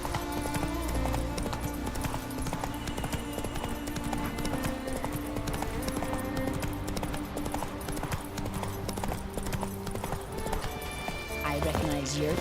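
Roach, Geralt's horse in The Witcher 3: Wild Hunt, galloping with steady, rhythmic hoof clops, loud and close, over continuous game music, with a brief whinny near the end and a voice talking over it.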